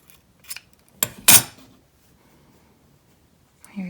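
Scissors snipping yarn while making a Christmas wreath ornament: a couple of soft clicks followed by one crisp, louder cut, close up in an otherwise quiet room.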